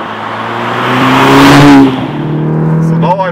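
The engine of a 2014 Audi S3 sedan (8V) in dynamic mode revs up loudly, its pitch climbing to a peak and then dropping back to a steady drone, with a voice briefly over it at the end.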